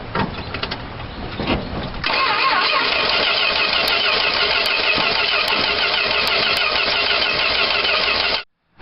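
A small engine with a choke cranks for about two seconds, then catches and runs steadily at a loud, even idle before cutting off abruptly near the end; no talking.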